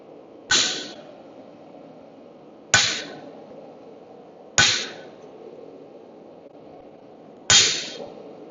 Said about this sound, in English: now I have to chisel down the middle